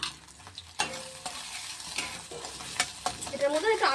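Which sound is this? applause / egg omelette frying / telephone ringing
egg omelette frying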